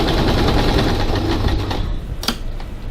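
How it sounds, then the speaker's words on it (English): Close and loud, a sewing machine runs a fast, steady stitch while basting the top edge of a fabric crossbody bag flap, then slows with a brief mechanical clack near the end. "I also like to baste the top edge of the flap closed,"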